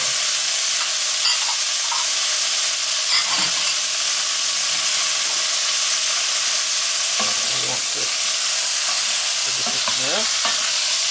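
Onion fries in a pan for beef curry with a constant loud, close sizzle and hiss. Occasional scrapes and stirring clatter break through, and no one speaks.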